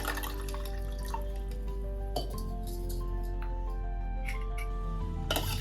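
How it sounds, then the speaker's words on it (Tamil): Water pours steadily into a jug for mint lemon sherbet, with light glassy clinks and chimes over a constant background hum, close by and continuous. "1/2 லிட்டருக்கும் கொஞ்சம் கம்மியா தண்ணி சேர்த்துக்கலாம்."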